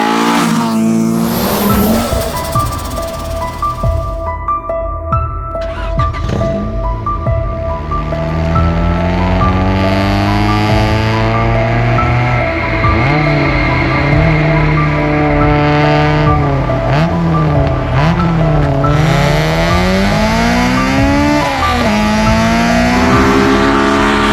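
B18-swapped Honda Civic EJ9 hatch accelerating hard from inside, engine screaming up through high revs with sharp drops at each gear change, loud and continuous, tyres spinning at launch.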